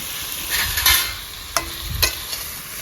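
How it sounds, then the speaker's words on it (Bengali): Close sizzling of tomatoes frying in a pan with cauliflower, with a few scraping spatula strokes and light clinks as the food is stirred. "টমেটো হালকা করে ভেজে নিই"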